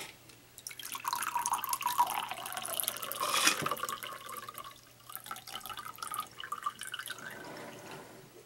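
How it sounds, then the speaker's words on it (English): Water poured out of a Yeti tumbler, a faint, close trickle and splash that swells midway and tapers off, with scattered drips. "So first up, we'll just pour out the water out of the Yeti."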